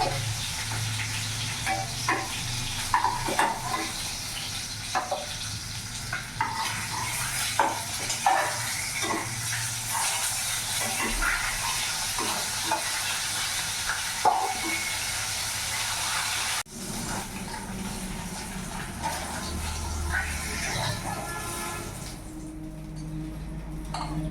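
Rui fish frying in a pan, a steady soft sizzle of hot oil with occasional light clicks and stirring taps, fairly quiet and continuous, easing near the end.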